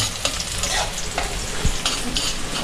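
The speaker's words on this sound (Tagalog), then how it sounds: "Bali, nagigisa na po." Garlic and onion sautéing in a pan, a close crackling sizzle with scraping stir strokes of a utensil repeating every second or so.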